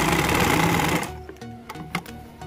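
A sewing machine runs steadily through fabric in a loud, close whirring burst for about a second, then stops, leaving a few faint handling clicks.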